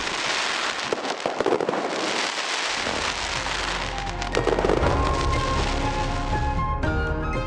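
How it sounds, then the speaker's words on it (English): Continuous crackling and popping bursts of a fireworks display in Penghu, Taiwan fill the air, dense and loud, with deeper booms rumbling underneath throughout. "elevated to positive energy, joy and happiness by a magnificent display of fireworks."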